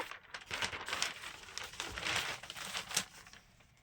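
Newspaper pages rustling and crinkling close by, a continuous papery scratching with uneven bursts and a few sharper crackles over about four seconds, heard alone without talk at a moderate, fairly quiet level.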